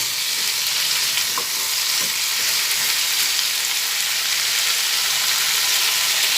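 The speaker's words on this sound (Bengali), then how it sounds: "চাল আর কুমড়ো সব ভেজে নিচ্ছি" Steady, continuous sizzling of rice and pumpkin frying in a pan, loud and close, with occasional faint stirring scrapes and no voices.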